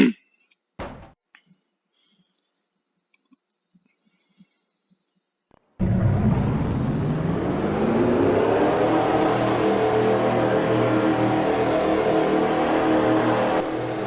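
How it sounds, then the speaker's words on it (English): Race car engines at a three-seven speedway start up after some quiet clicks and then settle into a loud, steady, continuous roar that holds for several seconds, close and dominant. "Drivers, start your engines!"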